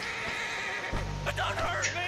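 A horse in the Red Dead Redemption video game lets out a brief whinny, heard faintly in a short burst against a soft background.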